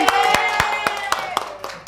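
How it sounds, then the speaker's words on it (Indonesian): Classroom applause during a micro-teaching practice lesson, a small group clapping in quick uneven bursts for about two seconds, with a voice talking faintly over it. "Tepuk tangan."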